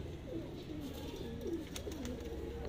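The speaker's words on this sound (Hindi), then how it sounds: "काफ़ी शानदार ये अली वाले कबूतर हैं" Ali wale pigeons in Sialkot cooing softly and repeatedly, several low rolling coos in a steady rhythm against faint background noise, with no voices.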